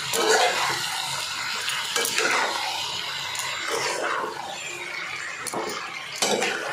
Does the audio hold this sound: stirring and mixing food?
yes